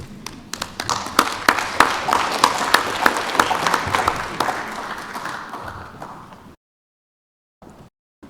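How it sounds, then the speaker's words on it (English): Audience applause at an international forum on One Korea, a dense wash of clapping with sharper individual claps, steady for about six seconds before cutting to silence, then a few brief faint claps near the end. "let's give another round of applause to the panel here"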